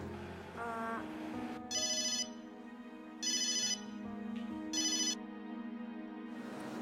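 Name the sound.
phone ringtone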